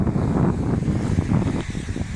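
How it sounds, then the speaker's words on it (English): Strong gusty wind buffeting the microphone outdoors on a walk, a continuous loud low rumble with fluctuating bursts throughout and no voice. "it is quite windy today"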